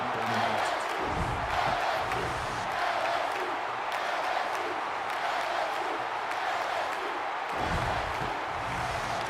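A loud, steady roar from a packed stadium crowd at an LSU college football game in NCAA 24, cheering and whooping continuously with no break across the whole stretch.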